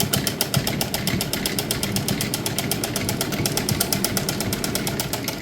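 A sewing machine stitches fabric for a plain dress with patch work, a fast, even mechanical chatter running continuously at close range with a steady rhythmic tick over a low motor hum.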